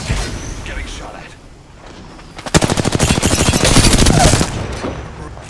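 Apex Legends gunfire: a long, loud burst of rapid automatic fire rattles for about two seconds, with scattered shots and game noise before it and a voice speaking over the action.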